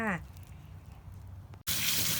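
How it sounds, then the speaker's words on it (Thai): Raw beef liver is rinsed under a running tap, first as a faint trickle and then as a sudden loud, steady gush of water near the end. "ล้างด้วยทางน้ำไหลอย่างนี้เลยค่ะ"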